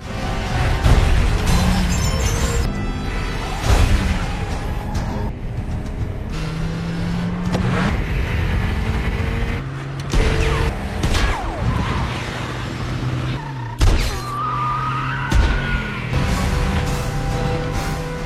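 An action-film car chase roars along, engines revving and tires skidding, with crashes, impacts and bursts of gunfire layered over loud, dense, continuous noise.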